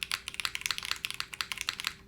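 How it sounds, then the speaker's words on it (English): Rapid typing on a 60% mechanical keyboard with a bouncy feel, a close, steady run of crisp clacking keystrokes with no voices. "Yeah, it's definitely has some bounce, this keyboard too."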